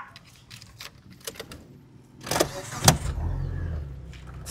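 A 2009 car with a 1.6-litre engine starts up: faint clicks and rattles, then a sharp crank burst and the engine catching into a low idle rumble.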